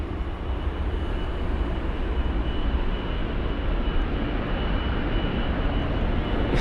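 An Aer Lingus airliner at London Heathrow in stormy weather gives a steady, broad engine rumble that holds at a constant level throughout, with no voices.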